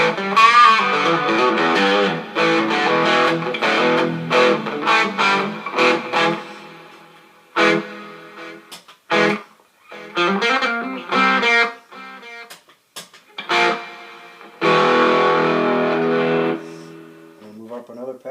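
Heavily distorted electric guitar through an Epiphone Valve Jr. amp, playing chords and riffs with abrupt stops and several silent gaps between phrases, loud and close.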